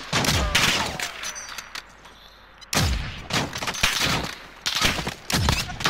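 Rapid bursts of gunfire from a video game shooting match, sharp volleys and repeated cracks clustered close together with brief lulls between, loud and near throughout.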